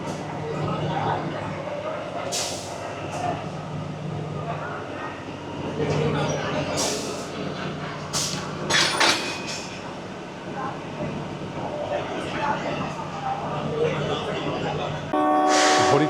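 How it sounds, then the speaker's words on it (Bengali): The locomotive of the Shivalik Deluxe Express is coupled to its train at Kalka, with a steady engine hum, sharp bursts of air hiss and metallic knocks, and voices murmuring nearby. "এই হলো শিবালিক ডিলাক্স এক্সপ্রেসের ইঞ্জিন। এই ট্রেনের সাথে ইঞ্জিন এখন যুক্ত হবে।"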